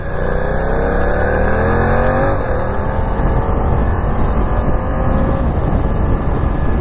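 BMW F900R motorcycle accelerating hard, its engine note climbing steadily then dropping briefly at a smooth quickshifter gear change before rising again, loud and continuous with wind noise.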